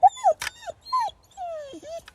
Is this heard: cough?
no